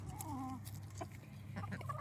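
Hens clucking softly in a backyard flock, a few short faint calls over low background hum.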